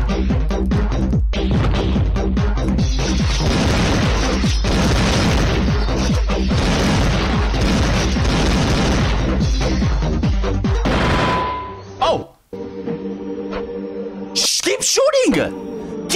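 Gunshots and explosions from a Madness Combat animation: a loud, dense barrage of booms and bursts that cuts out abruptly near the end, mixed with voices talking.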